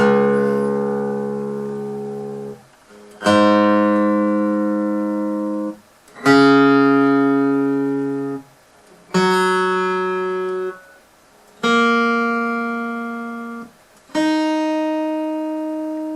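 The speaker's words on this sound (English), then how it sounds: "So I'll just play each string by itself so you can see what I'm doing" Six single guitar strings are plucked one after another, each ringing out and decaying before the next, clear and close with no talking.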